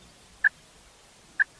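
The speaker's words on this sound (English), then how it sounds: "The hens just mainly do a soft couple clucks." Wild turkey hens roosting in trees give two soft, short clucks about a second apart, faint and isolated against quiet background.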